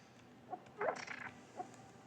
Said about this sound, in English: Which, by the way, I say Cuckoos.